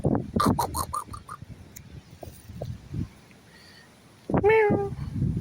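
A cat on a walk outdoors gives a few short meows near the start and a louder, drawn-out meow near the end, with quiet rustling and faint background sounds in between.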